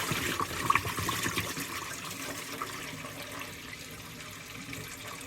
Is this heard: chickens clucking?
no